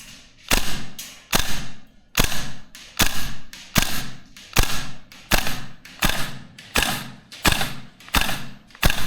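A VFC URGI V3 gas blowback airsoft rifle fires about a dozen single shots in a steady, evenly spaced rhythm, each a sharp, loud crack with a metallic clack of the cycling bolt, heard alone.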